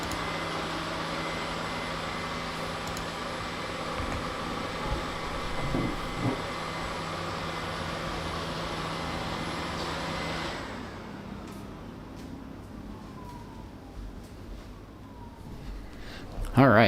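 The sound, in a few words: vacuum cleaner running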